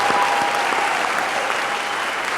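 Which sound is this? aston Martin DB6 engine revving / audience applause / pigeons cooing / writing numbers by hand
audience applause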